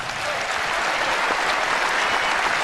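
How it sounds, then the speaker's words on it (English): Crowd at a 1996 PBA National Championship bowling final breaks into loud, sustained applause, a dense wash of clapping that carries through without pause. "you can tell the way the crowd applauds that they know what's happening down there on the approaches"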